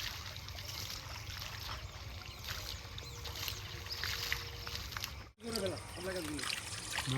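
Water trickling and splashing, like water being poured out, around a large fish being cut and cleaned; a steady watery wash runs throughout, briefly cutting out near the end, with voices talking over it.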